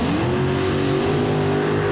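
A tractor-pulling machine with three Arias engines strains against the sledge at a 1994 European event, a loud continuous roar rising slightly in pitch and then holding steady under heavy load.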